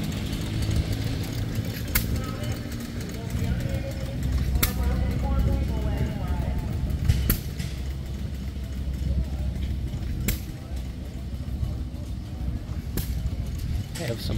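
Hit-and-miss engines run at an outdoor county tractor show, a low rumbling chug with sharp periodic pops every few seconds, while people talk nearby over the steady engine noise.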